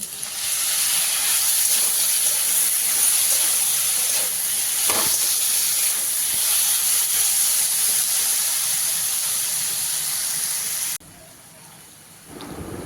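Ground spice paste hitting a hot pan with lightly fried coconut for Bengali pumpkin chhokka, a loud, steady hiss and sizzle that suddenly drops much quieter near the end.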